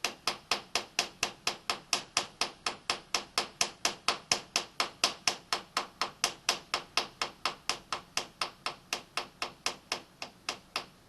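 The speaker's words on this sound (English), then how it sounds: "you can see while I'm tapping on the vise" A steady series of about forty sharp metallic taps strikes a milling machine vise in an even rhythm, close and clear, with no talking over them.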